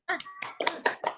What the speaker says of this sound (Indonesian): Ayo teman-teman, kita tepuk semangat.